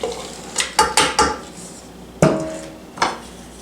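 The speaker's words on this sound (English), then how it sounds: "Stir that up good." Instant potato cake batter of mashed potato flakes, milk and melted butter stirred in a bowl, giving a series of sharp utensil scrapes and clinks against the bowl, several in quick succession then two more spaced apart, close and fairly loud.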